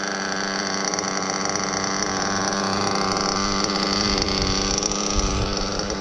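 A modified Novarossi Virtus nitro engine idles steadily and alone at close range, a buzzy, even drone that holds constant throughout.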